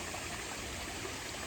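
A small woodland stream flows in a steady, close, even rush of water with no breaks and no voices.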